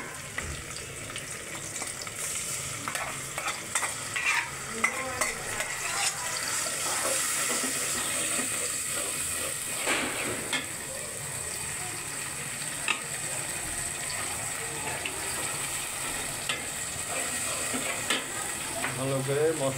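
A spice paste of turmeric, chili powder, salt, cumin paste, chili paste and onion paste fries in a pan and is stirred steadily for hilsa fish with pointed gourd. The sizzle is continuous, with scraping strokes and faint background sounds.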